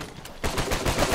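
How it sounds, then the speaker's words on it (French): Gunfire in the Uncharted 4 multiplayer beta, starting abruptly after a brief quiet moment as a burst of rapid, loud shots that continues to the end. "Attends, ça tire là-bas."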